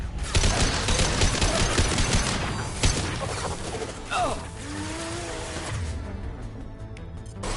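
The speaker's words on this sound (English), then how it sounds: "Heavy fire imminent." Heavy gunfire in the video game Mass Effect 2, dense loud volleys for the first few seconds, then quieter mechanical noise with a voice speaking.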